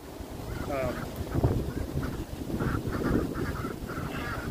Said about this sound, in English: that's the duck flock in this little shed